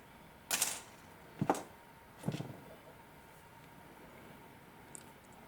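Cutting pliers snip round wire on a wire-wrapped cabochon mushroom pendant: three sharp, close clicks about a second apart, then a faint fourth tick after a pause, in a quiet room.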